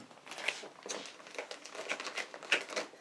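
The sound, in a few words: opening small plastic packaging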